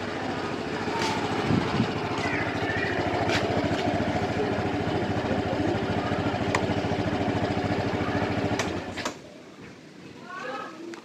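A motorcycle engine runs steadily at close range, a dense continuous drone that cuts off near the end, leaving quieter outdoor ambience.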